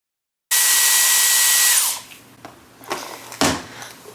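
A Dyson hair styler blows air through long, thick, textured hair on a barrel attachment. It gives a loud, steady whoosh for over a second, then cuts off, followed by a few softer rustles and bumps.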